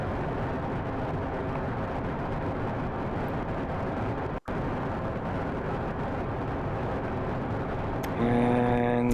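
A rocket on solid fuel boosters roars through a Kerbal Space Program launch as a steady, loud, broadband rumble with one abrupt dropout near the middle. Near the end a brief tonal chime rises over the roar.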